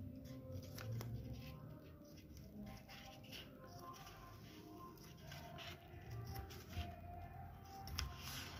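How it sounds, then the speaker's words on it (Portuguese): Scissors snip away excess material on a handmade Moana-themed party favor, a series of faint crisp cuts and light rustling up close, with no talk over them. "Aqui eu vou usar a tesoura, que eu vou cortar o que tá passando"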